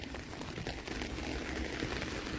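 Rain falling in a street in Vila Nova de Gaia, Portugal, a steady broadband hiss of drops and wet pavement noise, fairly quiet and continuous with no voices.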